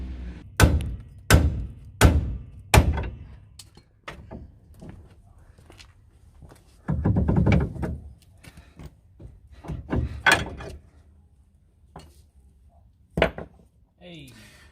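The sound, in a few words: hammering on a stuck shock bolt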